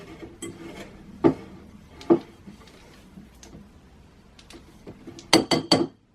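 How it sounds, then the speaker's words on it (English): A spatula scrapes down a mixing bowl while lemon cookies are mixed, gluten-, lactose- and yeast-free. The clip has sparse knocks and scrapes that build to a quick cluster of clinks and scrapes near the end, nearby with no talking. "now I'm just going to scrape down the last little bits of my flour bowl."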